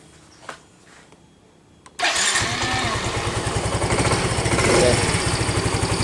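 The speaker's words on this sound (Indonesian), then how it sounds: "Dan motornya pun bisa menyala ya teman-teman." After a few quiet clicks, a Yamaha Mio M3 scooter engine catches abruptly and settles into a loud, fast, even putter of idling close by, with a brief spoken word during the run.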